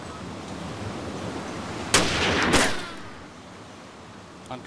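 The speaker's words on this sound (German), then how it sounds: "Schuss" A single gunshot in the DayZ video game, one sharp broadband blast with a brief echoing tail, alone against a quiet background.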